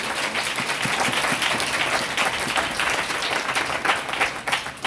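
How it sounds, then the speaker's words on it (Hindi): A church congregation claps along during a Christmas carol service, a steady dense patter of many hands filling the space, with a faint rhythmic pulse underneath. "ताली बजाते"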